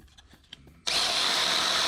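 A power drill whirs into ABS plastic with a sudden loud, steady grinding that starts abruptly after a quiet moment and holds continuously.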